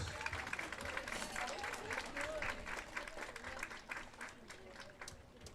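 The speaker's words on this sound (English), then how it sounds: "How about a big round of applause for Alton seniors?" A crowd at a high school softball game, Alton seniors versus the Lady Kahoks, gives a sustained round of applause, distant and faint, with a little talking mixed in.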